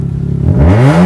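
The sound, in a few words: car engine revving with exhaust, from video game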